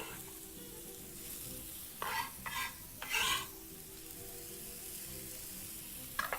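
Half a large white onion, added to a seasonal pasta with farmers beans, sizzles steadily over high heat in a hot pan. Several short bursts of stirring and scraping rise over the constant hiss, and no voices are heard.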